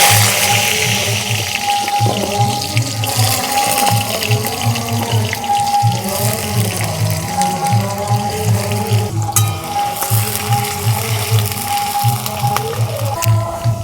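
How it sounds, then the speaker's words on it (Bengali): Freshwater snails are rinsed under running water in a sink, with a steady splashing flow and repeated sloshing and clattering of shells as they are swished about, close and continuous. "এগুলো আমি 4-5 বার করে ধুয়ে নেব।"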